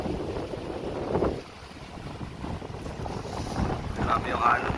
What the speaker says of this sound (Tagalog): Grabe yung alon na yun.